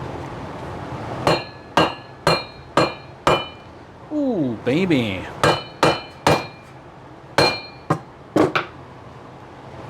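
Sharp metallic hammer whacks seat a part on a VW Beetle engine during a turbo and alternator upgrade, about a dozen close, loud strikes in an irregular series with a short scraping sound midway and brief talk.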